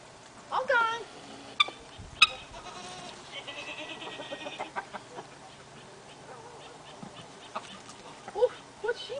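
Goats bleat in a barnyard alongside chickens, with several short calls scattered over steady farmyard background noise and a few louder bursts nearby.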